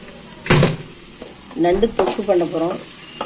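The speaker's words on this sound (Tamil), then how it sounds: "இப்போ எண்ணெய் விட்டு கடுகு சோம்பு போட்டு தாளிச்சிட்டோம்" Mustard seeds and fennel crackle in hot oil as a crab pepper gravy is started, with sharp pops and spatter bursts, a pan knock, and a voice talking briefly over the sizzle.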